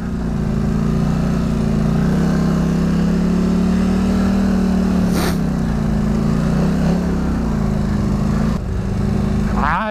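A Polaris Scrambler 1000 ATV engine drones loudly and steadily on an offroad tour, its low growl rising and easing slightly as the quad drives, with a brief sharp noise near the middle and a short shift near the end.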